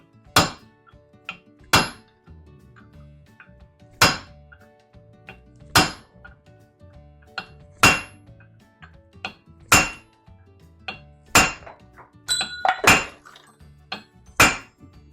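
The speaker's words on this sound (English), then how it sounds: "I'm going to give it a try with the chisel and see if what happens here." A hammer drives a chisel against a Ford 9-inch axle bearing, giving a dozen or so sharp metallic strikes at an uneven pace, each one ringing briefly before fading into quiet.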